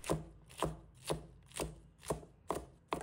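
A knife chops mustard greens on a board in seven evenly spaced, crisp strikes about half a second apart, close and clear with no talking.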